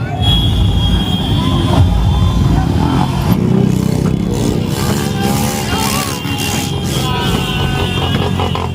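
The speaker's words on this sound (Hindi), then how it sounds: "देखिए पूरा बाइक में पूरा राउंड लगाएगा यहाँ पे" Motorbike circling a large open ground during an Independence Day outing, its engine droning steadily and loud throughout, mixed with crowd noise and people talking.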